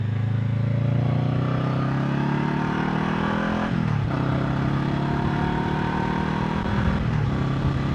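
A Honda CBR500R motorcycle on the road, its engine droning steadily with shifting pitch as the rider accelerates and changes gear, with wind rush throughout and no talking.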